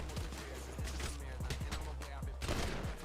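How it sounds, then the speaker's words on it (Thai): Gunfire in the GTA V video game during an esports match comes as rapid, repeated shots in a dense, continuous barrage, with faint voices underneath. "ปืนยิงครับ"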